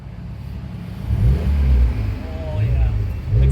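Honda Civic Type R FK8 fitted with an HKS Legamax exhaust pulling away, a deep low exhaust rumble swelling in surges as it accelerates, moderately loud and nearby, with people talking over it.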